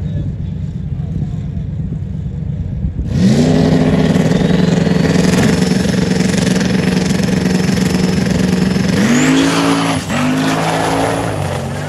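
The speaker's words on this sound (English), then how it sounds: "Maybe it's a turbo car." A turbocharged drag racing car at ATCO Dragway roars up loudly after a quiet start, holding a steady strained engine note for several seconds before a brief break and a renewed surge as it accelerates down the strip.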